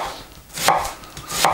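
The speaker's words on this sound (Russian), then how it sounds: "Очень хорошо нарезается." A large kitchen knife slices through food twice in steady strokes, each a close, crisp swishing cut with a soft knock as the blade meets the board, no talk.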